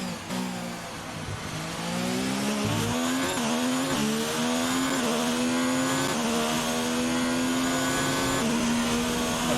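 Formula 1 car engine from the racing game F1 2019 at Bahrain, a loud continuous high-pitched whine rising and dropping through repeated gear shifts, with no talk over it.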